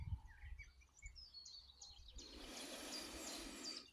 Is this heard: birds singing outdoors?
yes